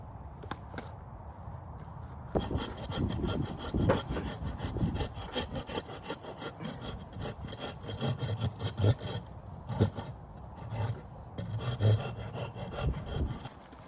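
Steady rasping and scraping of a tool shaping a wooden axe handle, with rhythmic strokes continuing close up for several seconds and no talking.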